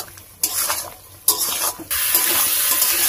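Spice paste for a rohu fish curry with taro is stir-fried in a pan, giving bursts of scraping and sizzling that rise and fall, then settle into a steady frying hiss.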